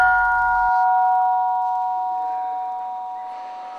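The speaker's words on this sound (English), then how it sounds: "When the monks heard the gong, they went up to line up for the breakfast." A monastery gong is struck once to call monks to breakfast. It gives a single clear ringing tone that fades slowly over several seconds, with no voices.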